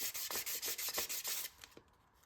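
Sandpaper rubbing back and forth across the edge of a paper template for rubber-powered model airplane wing ribs, about eight quick rhythmic strokes close by, then a few lighter scrapes before it stops.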